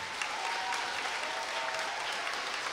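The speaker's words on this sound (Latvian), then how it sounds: "Bet skaļus aplausus gan mēs gribam veltīt, protams, visiem atbalstītājiem." An audience at a reading festival applauds its supporters with steady, dense clapping from a large crowd that fills the room evenly and neither swells nor fades.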